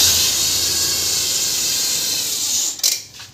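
A hose on a Mitsubishi Montero leaks with a loud, steady high hiss that holds for several seconds and then cuts off abruptly, followed by a few brief sputters.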